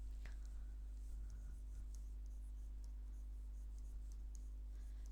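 Pen writing on paper during a chemistry lesson, with faint, soft scratching strokes under a steady low electrical hum.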